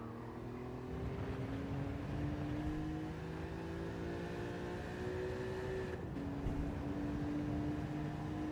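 An engine in a TT motorcycle racing video game revs steadily, its pitch climbing slowly and then dropping sharply partway through before climbing again, with a sustained loud drone and no talking.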